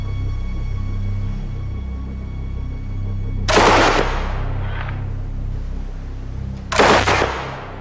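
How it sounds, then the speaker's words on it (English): Two loud, sharp gunshots fired at a steel plate as thick as the armour of a German WW2 night fighter, separated by about three seconds over a low steady hum outdoors. "I'm shooting at metal plate the same thickness as the armour on a German night fighter."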